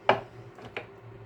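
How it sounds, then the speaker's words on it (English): A knife chops a fresh tomato on a board in three sharp, crisp strokes, near and fairly quiet, with a low hum underneath. "And then get this tomato. Chop it up a little bit just to kind of help."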